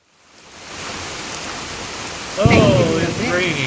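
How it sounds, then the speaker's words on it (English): Steady rain in the video game Fallout 4 fades in and patters evenly, with a brief bright sound and synthetic tones joining near the end. "Oh, it's raining"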